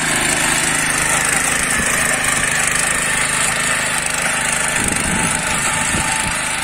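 A Kaan 26S motor hoe tiller engine runs loud and close in a constant buzzing drone, with strong wind and occasional faint knocks from the soil.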